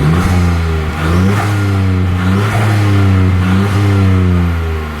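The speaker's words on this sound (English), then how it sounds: "I'm doing it in some revs now for Martin." A Ford Fiesta ST engine fitted with an aftermarket induction kit revs repeatedly, pitch climbing and falling in several loud throaty bursts with an intake roar, close by.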